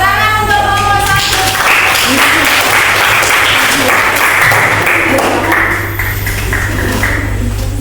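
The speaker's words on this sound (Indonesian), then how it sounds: "Ya, tepuk tangan untuk kelompok" A classroom full of students claps for a presenting group, with dense, loud, sustained applause lasting several seconds and fading slightly near the end, with some voices mixed in.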